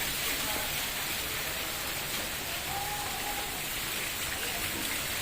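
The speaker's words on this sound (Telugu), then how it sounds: "పొద్దున్నుంచి మధ్యాహ్నం దాకా వర్షం పడతానే ఉంది" Rain falls steadily on a festival day, a constant dense hiss with no breaks, fairly loud and close.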